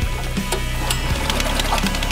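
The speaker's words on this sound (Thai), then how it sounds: "โดยใช้เครื่องแปดแรงม้าตัวนี้นะครับ" An eight-horsepower engine near rice fields in Chiang Mai runs steadily, giving a close, continuous mechanical chugging with rhythmic knocking pulses and rattly overtones.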